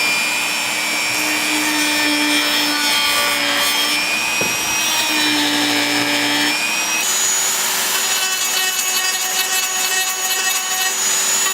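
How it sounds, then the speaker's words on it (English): A rotary tool with a grinding tip runs continuously as it cleans up the edges of a plexiglass shuriken, giving a steady high-pitched whine with a scraping rub against the plastic. "let's clean up the edges with the grinding tip first."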